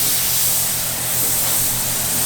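A spray gun lays a light first coat of primer over body filler on a RWD Honda Civic, a close, continuous hiss of airflow with a faint low pulsing beneath.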